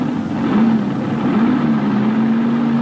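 A monster truck's front engine running loud and steady at a 1989 USHRA event in Kansas City, a continuous low rumble with the pitch rising and falling slightly, while the rear motor stays unfired.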